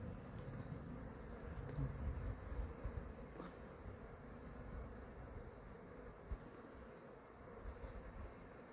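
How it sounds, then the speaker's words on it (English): Honeybees buzz in a continuous low drone around a hive entrance as they return laden with pollen, close by and soft, with no talking. "Lots of bees with payloads."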